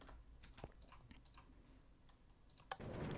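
Mouse clicks while playing Minecraft come as a scattered series of small, close, dry taps in an otherwise quiet room, followed by a rising wash of game noise at the end.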